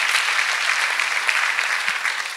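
Church congregation clapping, a dense, steady burst of applause filling the short span at even volume, with no talk over it.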